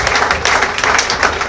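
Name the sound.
church congregation applauding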